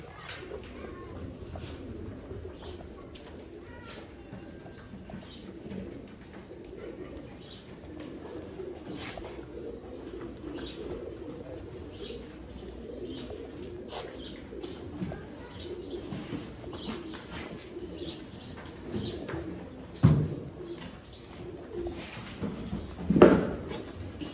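Pigeons coo softly and steadily in a breeding loft holding about 25 pairs, a low continuous murmur with occasional wing flutters and scattered chirps, heard close and fairly quiet.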